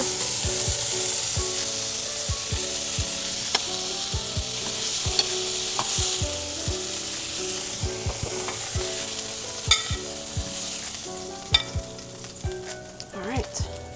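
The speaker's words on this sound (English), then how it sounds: "the spinach is cooking in the bone broth" Spinach cooking in bone broth in a pan gives a steady bubbling sizzle, broken by repeated scrapes and clicks of a utensil stirring the greens, sharper near the end.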